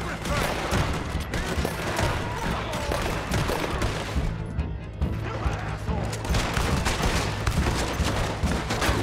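Heavy gunfire in Red Dead Redemption 2, a dense loud fusillade of overlapping shots and crashes that continues almost without pause, with a brief lull midway.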